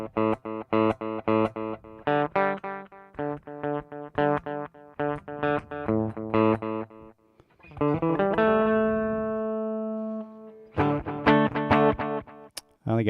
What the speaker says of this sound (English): Let's turn off the reverb, let's add some delay.